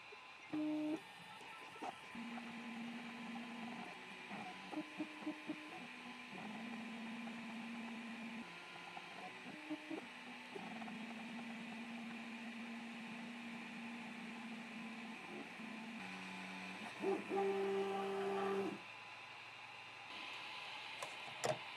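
A 3D printer printing a battery cover, faint mechanical whirring with stepper-motor tones that shift pitch in short segments as the head moves, quiet and steady with occasional louder bursts.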